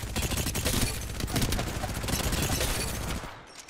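A rapid burst of automatic gunfire fills the air in Apex Legends, dense and loud, a continuous fusillade of close shots that trails off near the end.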